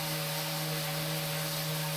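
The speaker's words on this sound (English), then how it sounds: "let's go ahead and knock out some more sanding." Sanding the edges of a carved wooden wedding sign with a power sander, a steady droning hum with a strong low tone and broad hiss running unbroken throughout.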